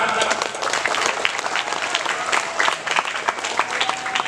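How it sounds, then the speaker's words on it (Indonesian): A crowd at a graduation ceremony at a modern Islamic boarding school claps in a dense, sustained round of applause, loud and close, with scattered voices mixed in. "Tepuk tangan."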